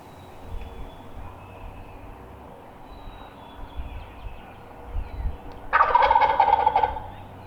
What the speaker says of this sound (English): He sure is gobbling up a storm.